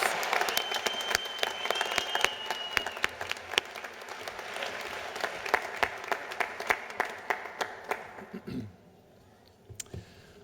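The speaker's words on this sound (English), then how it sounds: "Can we please get a round of applause for our Bachelor of Science Nursing graduates and all of our graduates?" Sustained audience applause at a 2021 university commencement ceremony, honoring Bachelor of Science Nursing graduates: dense clapping from a large crowd fills the hall for about eight seconds, then thins to a few scattered claps.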